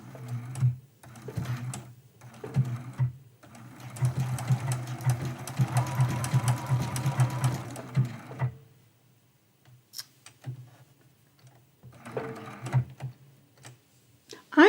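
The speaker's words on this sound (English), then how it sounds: "I always take a few really slow stitches to get started" Sewing machine taking slow stitches on a quilt, a soft low rhythmic thumping in short bursts and a longer run, separated by quiet gaps with faint handling noise.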